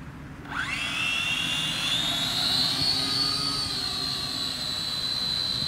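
A small Vosgesmodelisme 258-V racing drone spins up and lifts off, its motors rising into a steady high-pitched whine that holds loud and close for several seconds with no talking.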